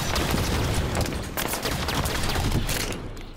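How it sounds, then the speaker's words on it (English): Dense explosions and gunfire in the Halo 5 game on Xbox One: a continuous, loud barrage of booms and rapid shots that overlap throughout, easing off slightly at the end. "Double explosion."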